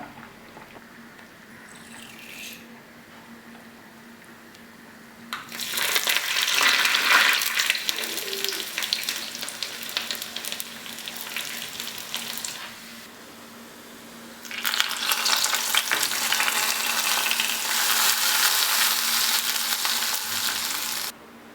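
Hot tempering for a Kerala dried prawn and raw banana curry sizzles loudly in two long bursts as it hits the pan, separated by quieter stretches of low background hiss.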